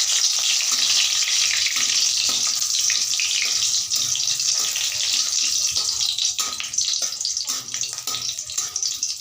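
Dried red chillies, bay leaves and a whole garlic bulb sizzle in hot oil in a pan for a chicken curry, a steady bright crackle that continues throughout with occasional stirring clicks.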